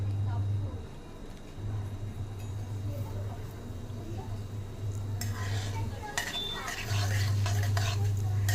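Urad dal is stir-fried in a pan for a leafy greens chutney, with spatula scraping and clinks against the pan over a faint sizzle and a low steady hum.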